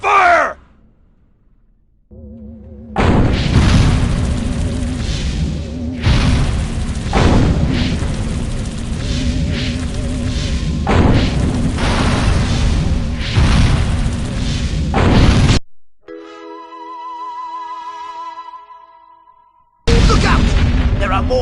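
Dense, loud weapons fire and rumbling explosions in the Destroy All Humans video game, sustained booming bursts with brief pauses, mixed with game sound effects.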